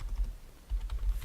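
Quick burst of typing on a computer keyboard, a handful of close soft keystrokes in an irregular rhythm, no voices.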